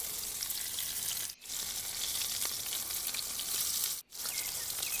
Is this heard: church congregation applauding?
no